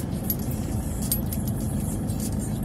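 Road traffic in Baguio hums steadily, with a low rumble of idling and slowly moving engines nearby and faint jingling and clicks from inside the vehicle.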